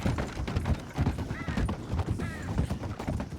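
Horse hooves clip-clop steadily in a GoldRush RP western roleplay game, a continuous busy clatter with a couple of brief whinny-like sweeps, no talking over it.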